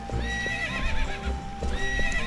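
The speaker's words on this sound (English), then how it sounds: "Oh, you stoop. Come on. Get on your horse." Epona, the horse in Twilight Princess, whinnies loudly while her hooves clip-clop steadily beneath, with a second neigh rising near the end, close and continuous throughout.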